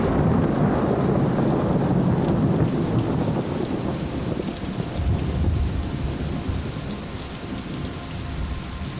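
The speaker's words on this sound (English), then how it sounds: "Thunder." A video-game thunderstorm roars with dense, steady rain and deep rolling thunder rumbling underneath, loud and continuous throughout with no voices.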